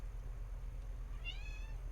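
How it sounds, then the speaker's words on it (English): A cat meows once, a short whiny cry near the end over a low steady background hum. "Marie, what you whining about? What's up, kitty?"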